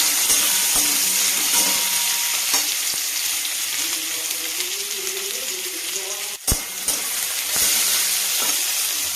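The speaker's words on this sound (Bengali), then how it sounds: "এবার এই সাদা তেলটার মধ্যেই 3টে পেঁয়াজ বড় করে রেখেছি দিয়ে দিই। পেঁয়াজটা একটু ভাজবো" Three large onions fry in white cooking oil, giving a dense, continuous sizzle and hiss up close, with a brief sharp clink of a utensil partway through.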